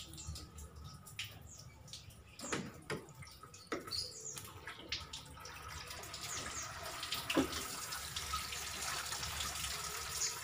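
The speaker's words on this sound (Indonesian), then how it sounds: "tekan lubang radiator ini dengan air." Water forced through a car radiator during a flush, a soft trickling and gurgling flow with scattered small knocks and drips that grows into a steadier rushing stream, fairly quiet and without talk.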